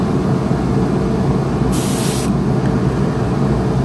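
Spray gun laying paint over a stencil while painting a yellow perch pattern on a fishing lure, a steady close hiss filling the whole stretch with a brief brighter burst partway through.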